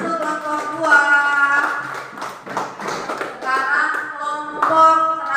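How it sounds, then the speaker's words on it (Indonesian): A class of students clapping for group 2 during a school lesson, rapid scattered claps mixed with overlapping voices and hums throughout. "Tepuk tangan untuk kelompok 2."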